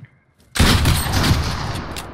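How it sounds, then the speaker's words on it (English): Video-game gunfire fired through walls: after a quiet moment, a sudden loud burst of rapid shots starts and then rolls on in a dense, booming stream. "That's not fair, you're wall banging."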